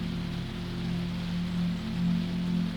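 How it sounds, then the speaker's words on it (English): Gentle, steady rain falls on the roof of a 1920s luxury sleeper train, a soft continuous patter over a low, even rumble, with no voices. "the gentle, endless rain, falling on the roof of the train"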